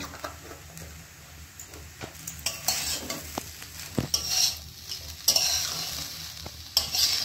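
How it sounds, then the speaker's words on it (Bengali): Fried rice being stirred with ghee in a pan, a spatula scraping and tossing in uneven strokes over a soft sizzle, growing louder toward the end, with no voices. "ঘি দিয়ে ভালোভাবে মিক্স করে নিয়ে"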